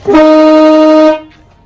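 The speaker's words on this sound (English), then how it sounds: "We have a train horn hooked up to the main horn." A loud, brassy train horn fitted to a Toyota Tundra pickup blasts once with a steady multi-tone chord for about a second, then cuts off, leaving a brief fading ring.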